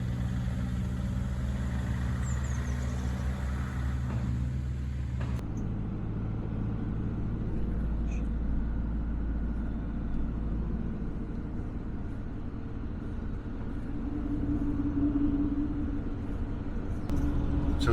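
Camper van driving through the industrial side of Hamburg near the port, a continuous engine and road rumble from inside the cab, steady and fairly loud, with a brief shift in tone partway through.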